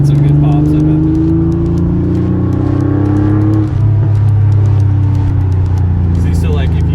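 Porsche 911 Carrera Targa engine revving hard, its note sweeping up and down through a rev-matched downshift with scattered sharp exhaust pops, loud and close, with a voice talking over it.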